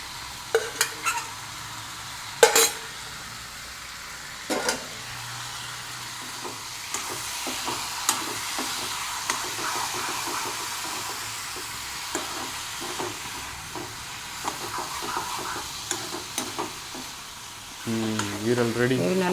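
Mutton liver stir-fried in a pan, a low steady sizzle under repeated scrapes and clacks of a spatula, several sharp knocks early on, close by, with a brief murmur of voice near the end.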